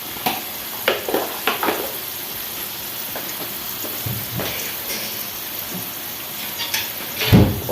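Spinach pakoras fry in hot oil with a steady, low sizzle, broken by scattered crackles and pops and a louder bubbling burst near the end. No one speaks.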